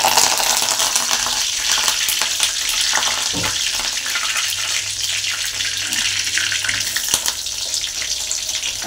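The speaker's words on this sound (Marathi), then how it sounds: "मी तेल ठेवलेलं आहे तापण्यासाठी, त्याच्यात कढीपत्ता टाकायचा आहे।" Curry leaves frying in hot oil for a moth bean curry, a continuous loud crackling sizzle close by, with a few clinks of a utensil.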